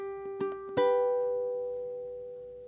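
Ukulele playing a slow blues intro measure: a few quick plucked notes followed by a strummed chord left ringing and fading, close and quiet with no talk.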